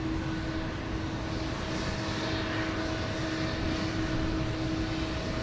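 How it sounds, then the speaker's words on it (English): A United Boeing 777-200ER in Star Alliance livery heard as a continuous, steady engine roar with a constant tonal whine, moderately loud and unbroken, with no voices. "Got a United 777 200 ER with the Star Alliance livery"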